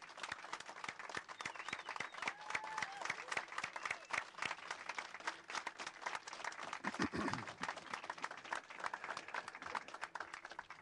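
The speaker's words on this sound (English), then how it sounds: "it's appropriate for us to show our approval with our applause" Wedding guests at a church ceremony applaud the newly married couple, a dense, continuous wave of many hands clapping at close range that holds steady for the whole stretch.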